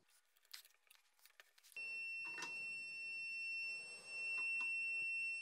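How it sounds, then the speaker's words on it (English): A force tester beeps at its maximum reading while pulling on a 3D-printed joint bonded with super glue and accelerant: a steady high electronic beep sounds continuously for several seconds after some faint handling noises, with a brief dip before it resumes. "You hear that beep? It is maxed out."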